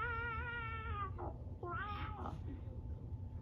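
A storyteller's voice imitates a hungry cat meowing, giving two drawn-out, wavering meows in a row, close and clear over faint background hum.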